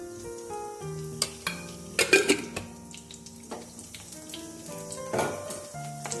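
Ghee sizzles in a pan as a bay leaf is dropped in for tempering, a close steady frying hiss with a few sharp metallic clinks of a utensil over faint tonal background sound.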